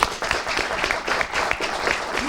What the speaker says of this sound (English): Those who believe no, please applaud.